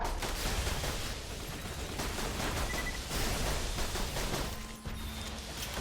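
Dense, continuous booming and crackling barrage of cannons firing repeatedly in a Borderlands 2 battle, loud and unbroken throughout.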